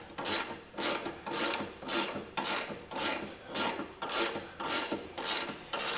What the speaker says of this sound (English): now we're going to undo the panhard rod on the rear